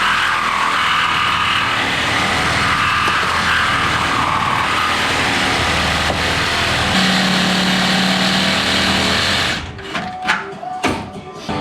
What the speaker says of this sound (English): I'm going to use this spot weld remover tool here